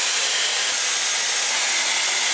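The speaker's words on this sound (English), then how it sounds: "Let's blow dryer and see how it looks." Hair dryer blowing on damp hair, a steady, loud airy rush that holds constant throughout with no talking.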